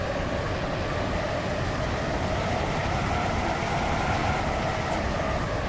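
Steady, dense rumble of a train running toward a station in the Roblox-style game Stepford County Railway, a constant broadband roar with no talk.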